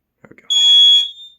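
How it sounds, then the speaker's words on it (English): A cheap battery smoke detector alarm on a home security system test lets out one loud, shrill, piercing tone for about half a second, preceded by a few soft handling clicks. "the last thing I'm going to activate is the crappy smoke detector alarm thing"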